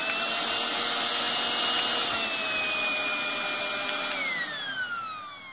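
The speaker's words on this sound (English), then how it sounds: "having one blower plugged in, I will power it on. And this controls the speed." A U.S. LWPAPR pusher fan blower for the M45 mask runs with a steady high-pitched whine, then its pitch shifts downward in steps as the speed control is adjusted. It is loud and close.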